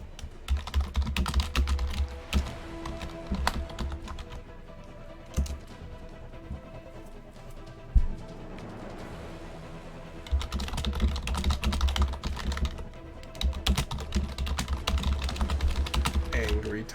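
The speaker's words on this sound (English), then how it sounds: "Angry typing." Rapid, forceful typing on a computer keyboard, clattering in dense bursts at the start and end with a quieter stretch between, heard close and alone.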